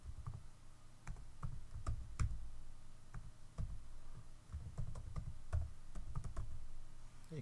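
Keystrokes on a computer keyboard entering a password while setting up a user account on Windows Server 2012, a steady run of close, quiet clicks in irregular bursts with no talking.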